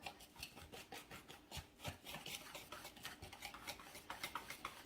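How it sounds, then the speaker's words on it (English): Ingredients being whisked together in a bowl for breakfast batter: a quiet, steady run of rapid scraping and rubbing strokes of a whisk against the bowl, faint and continuous with no voices. "We're going to whisk this together."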